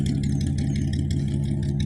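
A truck engine idles steadily with a low, rumbling drone and a faint rattle, continuous and close, with no other sounds.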